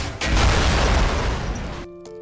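A single heavy blast as an enemy tank is destroyed in a film, a loud broadband boom that roars for over a second and fades into a sustained musical tone.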